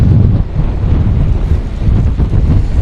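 Strong, loud storm gusts from Francine batter the microphone at Bay St. Louis, a continuous roaring buffet with surging, uneven pulses and no voices.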